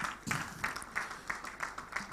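An audience at a postgraduate award ceremony applauds the Honorable Commissioner, a faint, distant patter of clapping rising and falling in soft pulses, heard alone.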